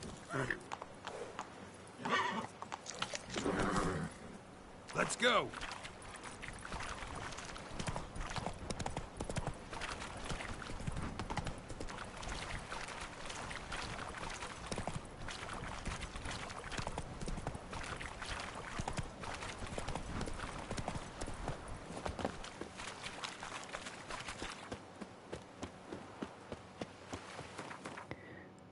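Steady clip-clop of hooves at a trotting pace runs throughout in The Witcher 3, with a horse whinny early on and a person speaking briefly over it.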